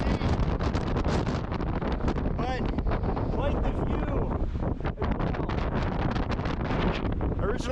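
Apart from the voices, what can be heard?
wind blowing into microphone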